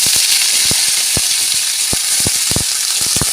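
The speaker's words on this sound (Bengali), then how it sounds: "রান্না বান্না বসিয়ে দিয়েছি আর প্রথমে শাকটা করে নিচ্ছি" Leafy greens (shak) sizzling in a pan: a loud, continuous hiss of frying up close, broken by scattered soft clicks and pops from stirring, with no voices.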